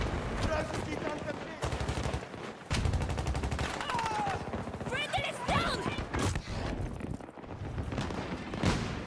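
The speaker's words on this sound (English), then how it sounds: "The machine gun here." Rapid machine gun fire in Battlefield 2042, dense bursts of shots with short gaps, loud and close, mixed with other battle noise and a person talking over it.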